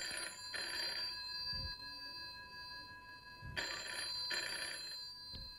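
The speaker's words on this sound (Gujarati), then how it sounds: "શ્રીકાંતનો ફોન હશે." A telephone rings as a sound effect in a radio play, with two pairs of bright electronic trills separated by a gap of silence, heard clearly and alone.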